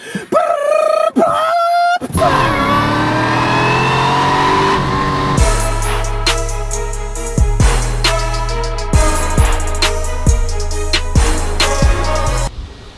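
Engine of a teal Cadillac CTS-V Wagon roaring and revving loudly, with a deep, pulsing burble punctuated by sharp blips and throttle stabs and shifting pitch throughout.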